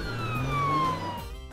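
An ambulance siren wails in a brief descending sweep, loud and steady for about a second before fading.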